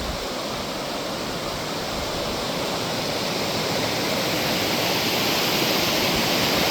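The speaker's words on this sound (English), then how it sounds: "there's so much fucking water going through right now" A river running very high rushes in a constant, dense roar that swells slightly and never breaks.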